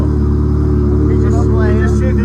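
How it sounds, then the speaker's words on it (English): Ferrari 360 Modena with a straight pipe exhaust, a low steady engine rumble held close and loud for a couple of seconds while a voice talks over it. "Straight pipe 360 Modena"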